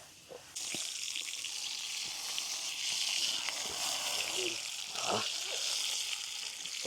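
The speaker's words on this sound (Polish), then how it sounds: "Standardowy kącik kucharski, a mianowicie wleciała wołowinka na patelnię" Beef sizzles steadily in a hot frying pan outdoors, a continuous hiss with occasional faint scrapes and clicks, close and fairly quiet throughout.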